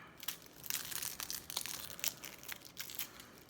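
Papery onion skins are pulled and stripped off by hand, giving quiet, close crinkling and tearing rustles in irregular bursts.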